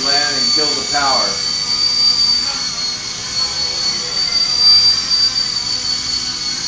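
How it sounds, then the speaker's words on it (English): A Novus FP200 mini RC helicopter flying indoors around a room, giving a steady high-pitched electric motor and rotor whine that holds loud and constant throughout, with a person talking briefly near the start. "flies around the room really nice"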